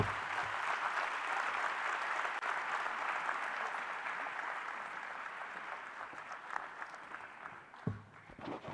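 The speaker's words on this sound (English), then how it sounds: "Once again, ladies and gentlemen, a huge round of applause." A large audience at the GFF'25 conference applauds after a speech, with sustained, dense clapping that fills the hall, fades somewhat toward the end and has a brief louder burst near the close.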